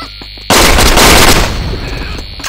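Loud burst of gunfire in the online shooter Paperman, a sudden blast at half a second followed by a dense crackling roll that fades into a lingering noisy tail, with faint game music and tones before it.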